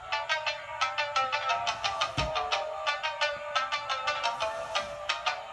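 Synth melody from an instrument plugin, a bright, plucky, bell-like line of rapid repeated notes in a steady bouncing rhythm, clear and alone without voices.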